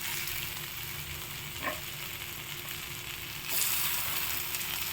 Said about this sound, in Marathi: कांदे टमाटर छान शिजले की आपण त्याच्यामध्ये चॉप केलेली वांगी टाकायची